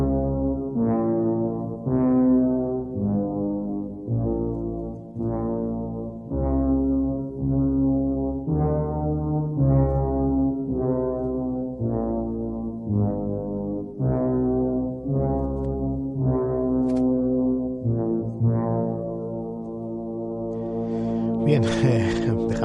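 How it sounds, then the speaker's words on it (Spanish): Ominous low brass-like chords from The Shining film soundtrack, a slow series of swelling sustained notes in a steady repeating rhythm, loud and alone, ending with a brief burst of higher noise. "escuchar los magníficos acordes de la banda sonora del Resplandor"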